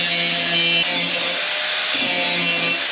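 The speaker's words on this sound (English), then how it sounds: "I gotta grind this weld off too" An angle grinder grinds a weld off a steel boat trailer, a loud, steady high-pitched whine with a harsh gritty edge and slight dips in pitch as the disc bears into the metal.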